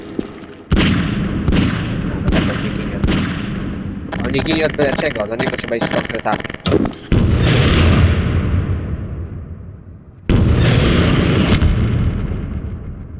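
Rapid sharp gunshots in bursts ring out in the video game Garry's Mod, followed by heavy booming blasts and rumbling explosions, while someone talks in between.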